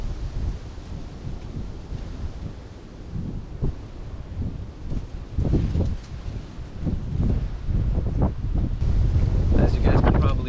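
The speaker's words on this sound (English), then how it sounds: "As you guys can probably hear, the wind is picking up right now." Gusty wind blowing outdoors at a lakeside carp fishing spot, buffeting the microphone in irregular rushing surges that grow stronger toward the end.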